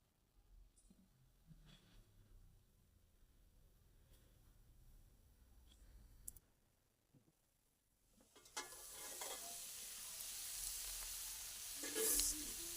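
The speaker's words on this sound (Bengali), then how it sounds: "এদিকে আমার আলুগুলো ভাজা হয়ে এসছে" Potatoes frying in a pan start with faint scattered clinks and soft stirring, then break into a loud, continuous hiss of hot oil sizzling close by for the last few seconds.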